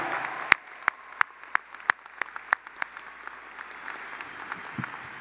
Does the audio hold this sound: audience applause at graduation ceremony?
yes